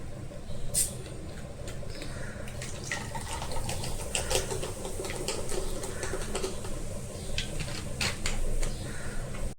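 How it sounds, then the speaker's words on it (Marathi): Ice cubes and soda going into a homemade lime soda drink, heard as a continuous fizzing, splashing pour with scattered light clinks, steady and close throughout. "आता याच्यामध्ये आपण आईस क्यूब टाकून घेऊया आणि आता सोडा टाकू"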